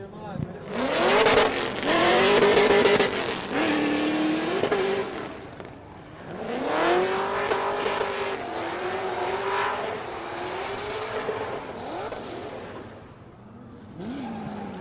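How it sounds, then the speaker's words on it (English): A Nissan S14 drift car in competition qualifying, its engine revving hard and rising in pitch with tyre squeal, loud and sustained through the whole run with brief lifts off throttle, while a commentator talks over it. "puts the foot down, does anything to hold that S14 on angle, and gets it over the line"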